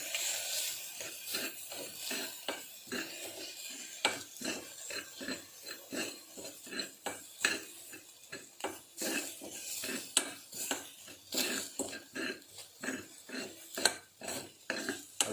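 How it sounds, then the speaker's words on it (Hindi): A utensil repeatedly scrapes and clanks against a pot while chicken biryani ingredients are mixed into a sticky paste, a quick, close, rhythmic series of metallic scrapes with no talking. "इसको अच्छे तरह से मिक्स करें।"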